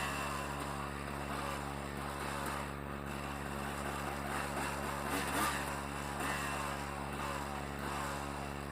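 Honda CRM 250 AR two-stroke motorcycle riding, a steady droning engine tone with a constant hum and wind rush, even and sustained throughout.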